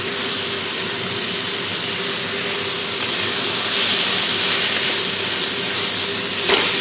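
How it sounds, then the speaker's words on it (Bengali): Vegetables seasoned with salt and turmeric fry in a pan for a prawn and fenugreek-leaf dish, giving a steady, loud, close hiss and sizzle that holds without a break, with one sharp clink near the end. "ভালো করে আমি ভেজে নেব।"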